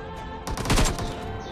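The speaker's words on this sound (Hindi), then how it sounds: "मुझ पर आ जाती है फायरिंग" A burst of gunfire erupts in PUBG Mobile, a loud, rapid volley lasting about a second over steady background game noise, with no one talking.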